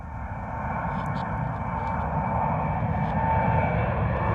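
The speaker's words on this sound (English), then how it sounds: "787-9er Dreamliner blasting out straight overhead" Qatar Airways Boeing 787-9 Dreamliner bound for Doha taking off at London Gatwick, passing straight overhead with a steady, loud jet engine roar and broad rumble that swells slightly as it climbs.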